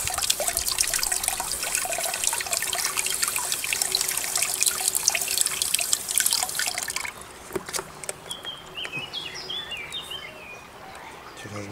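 Tomato seeds are rinsed under running tap water, a steady close splashing trickle for the first several seconds, then lighter drips and quieter flow, with faint birdsong outside.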